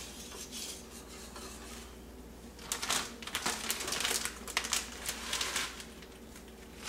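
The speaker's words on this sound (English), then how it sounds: "keep that good and stirred" A utensil scrapes and clinks against a pot while Alfredo sauce with melting cheese is stirred, in rapid irregular bursts after a quieter stretch, with no talk.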